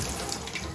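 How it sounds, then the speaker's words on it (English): Water streaming steadily from a leaking Delta bathtub spout, a continuous close splashing rush with no pauses. "when I pull this, you can see my spout is leaking"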